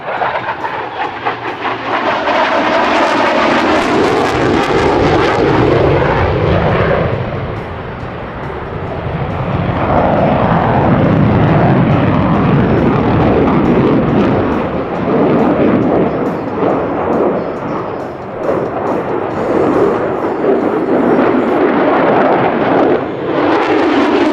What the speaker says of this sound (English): From the left, the F-35C and the minimum radius turn.